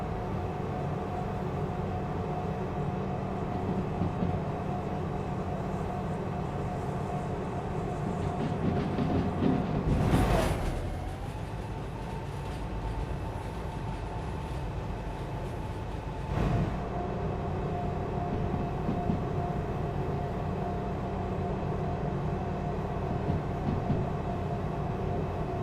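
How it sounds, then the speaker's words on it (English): A long freight train of nearly 50 wagons rumbles past steadily with a deep, continuous hum and drone, one louder surge and a later metallic clank standing out. "back of the train's just rounded that corner"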